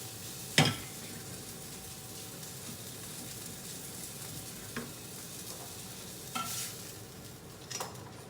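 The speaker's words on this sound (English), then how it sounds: "Stir it in, it's going to get really creamy, nice and creamy" Creamy polenta being stirred in a pot, with a soft continuous bubbling and sizzle broken by a few sharp spoon scrapes against the pot.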